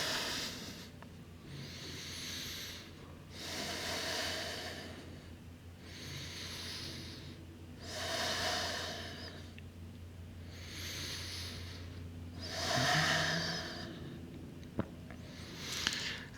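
Slow, deep breaths during a yoga pose, several long airy inhales and exhales rising and falling in an even rhythm, close and soft with no talking.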